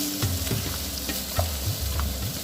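Onions fry in a pan with a soft sizzle, broken by quick, rhythmic stirring scrapes and knocks of a utensil, close up and with no talking.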